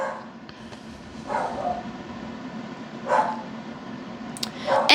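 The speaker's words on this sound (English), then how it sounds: "my dog is barking like insane right now" A dog barks indoors in three separate bursts spread across the clip, fairly close, over a low steady background hum.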